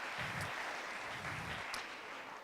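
Brief applause from an audience at a 2019 startup pitch event, a steady, moderately faint wash of clapping lasting a couple of seconds.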